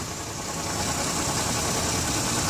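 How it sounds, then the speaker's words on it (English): A 2007 Chevrolet Uplander wheelchair van with a 3.9 V6 and 208k miles idles under the open hood, a steady, smooth, close-up engine hum and hiss at constant level, with no voices. "Let's pop the hood so you can listen to it run."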